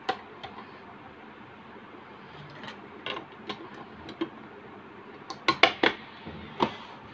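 Small metallic clicks and taps sound as a bobbin case is fitted into an Usha Queen Stitch sewing machine, with scattered faint knocks building to a quick cluster of sharp close clicks near the end, no talk.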